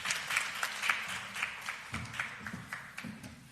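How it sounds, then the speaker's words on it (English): A press conference audience gives a round of applause, moderate and somewhat uneven clapping from a modest crowd, fairly soft and steady across the clip. "Give her another round of applause, ladies and gentlemen."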